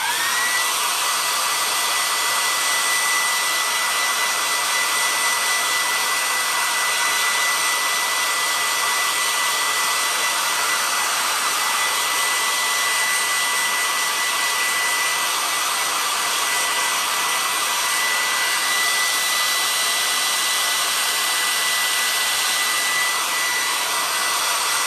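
A hair dryer blows steadily on a sewn raccoon onesie, a loud continuous whooshing whir with a faint high whine, unchanging from start to finish and with no voices.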